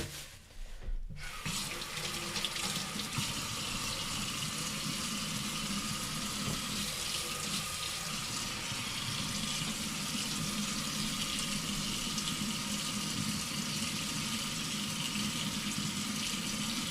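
Kitchen tap water runs steadily into a sink while a knife is rinsed clean of onion, a constant close hiss and splash after a brief quiet start.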